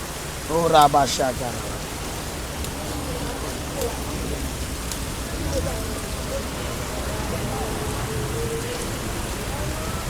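Steady rain hisses on a surface throughout, a soft continuous wash with a few faint drips, while voices speak over it near the start and a low murmur of people continues beneath.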